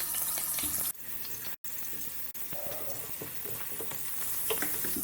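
Potatoes frying in hot mustard oil in a deep pan give a steady close sizzle with stirring scrapes, broken by two brief dropouts early on.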